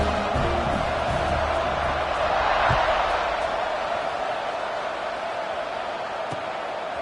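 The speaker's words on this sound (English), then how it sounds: "this crowd is buzzing after that last score." Football stadium crowd buzzing after a touchdown plunge into the end zone, a loud steady roar of many voices that holds throughout and eases slightly toward the end, with no clear single shouts.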